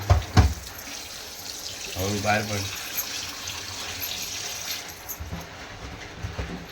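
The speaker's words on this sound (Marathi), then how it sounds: "आता भाजी धुतली असा किती पाण्यात धुवची लागतं भाजी दोन पाण्यात धुवायचे" Leafy shegla greens are swished and rinsed in a basin of water, with splashing, pouring and a brief trickle, while someone talks over the watery sounds.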